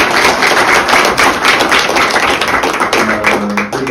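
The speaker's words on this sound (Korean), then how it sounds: "우리 큰 박수 한번 좀 보내주세요." Audience applause at an extraordinary general meeting of a Korean healthy-city research institute, dense steady clapping filling the room for about four seconds, close and fairly loud, fading slightly near the end.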